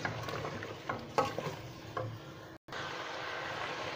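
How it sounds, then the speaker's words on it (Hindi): Balti gosht meat sizzles in a pan with ginger and garlic while it is stirred and fried, a steady crackle broken by scraping clinks and a brief gap, no talking. "अभी हम इसको अच्छी तरह भून लेंगे"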